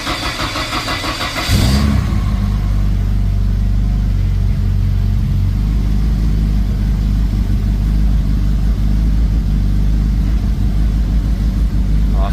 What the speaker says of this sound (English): Just a matter of turning the key now, start the engine up, and see if I get any errors.